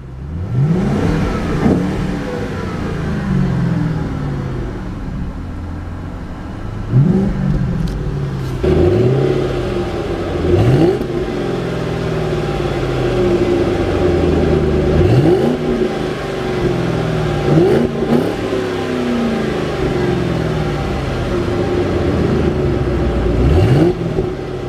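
A 2010 Ford Mustang GT Premium with the 4.6 engine revs up again and again from a deep idle, each blip swelling into a rising roar and dropping back, close and loud over about six throttle bursts.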